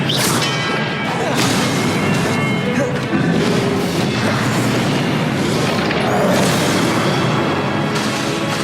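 Confringo blasting spells exploding in Hogwarts Legacy on PS4, dense booming blasts and crashes that run without a break at high volume, mixed with spoken spell incantations.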